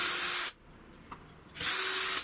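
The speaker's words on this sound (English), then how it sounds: "And I've also got to drill the hole all the way through." A power drill whines steadily as it bores a hole through a wooden watch strap, running close and loud in two bursts separated by a short quiet pause.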